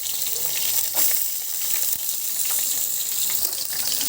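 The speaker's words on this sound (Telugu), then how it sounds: "ఇప్పుడు ఇందులో ఆనియన్స్, పచ్చిమిర్చి, కరివేపాకు వేసుకుందాం. తాలింపు చాలా గట్టిగా వస్తుంది." Onions, green chillies and curry leaves dropped into hot oil for a tempering, giving a steady close hissing sizzle with crackling spits throughout, no talk.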